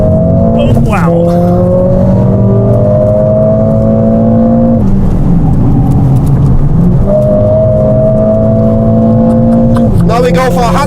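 A Mercedes-AMG drives fast through the Hatzenbach section of the Nürburgring Nordschleife with its automatic gearbox, its loud engine note climbing steadily and dropping sharply at each automatic gearshift, about three times, with a steady rumble of road and wind beneath.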